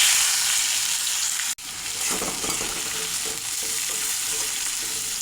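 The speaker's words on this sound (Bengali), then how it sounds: "পেঁয়াজটা আমার ভাজা হয়ে গেছে" Chopped onions frying in a pan after whole spices like cinnamon, cardamom, cloves and bay leaf have gone in, a dense, steady, close sizzle with a brief dropout near the start, no voices.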